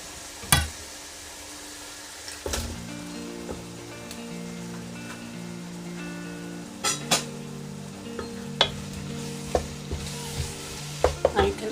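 Tomatoes for beef biryani sizzle and fry in a pan while a spoon stirs them, the steady frying hiss broken by scattered clinks and scrapes, close and moderately loud, with no voices.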